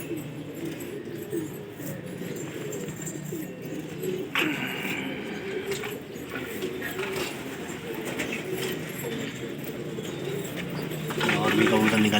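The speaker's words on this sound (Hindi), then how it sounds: "और भी कबूतर निकल के आ रहे हैं जुबैर भाई के।" Pigeons cooing close by in a rooftop flock-flying setting in Lucknow, with soft repeated coos and occasional wing flutters over steady background chatter of people talking.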